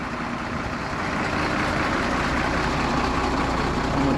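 A scaffolding company's truck idles with a steady, loud, rumbling engine drone that holds constant throughout. No speech is heard over it.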